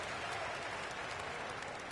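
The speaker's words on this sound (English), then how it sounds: "it certainly got everybody on their bench up and off their seats and cheering" Broad crowd cheering and applause from an arena crowd in a basketball video game, a steady dense roar right after a dunk, moderately loud and continuous throughout.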